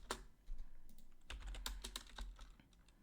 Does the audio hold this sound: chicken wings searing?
no